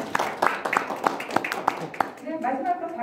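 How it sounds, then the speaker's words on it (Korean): Brief round of clapping from a small audience at a regional broadcaster's viewer committee meeting, steady distinct claps at moderate volume that taper off as a voice begins speaking. "우리 백수범 부위원장님께 다시 한번 감사의 큰 박수"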